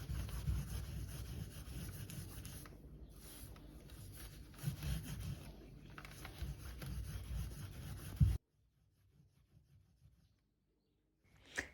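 A burnt steam iron soleplate scrubbed with toothpaste, a close, steady scratchy rubbing that continues for about eight seconds and then stops, leaving near silence with a few faint touches.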